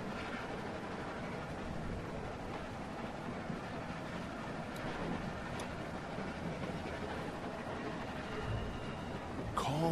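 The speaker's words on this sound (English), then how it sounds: "Stop the train." A moving train in The Walking Dead video game gives a continuous low rumble and rattle, steady and fairly loud throughout, with a faint metallic squeal near the end.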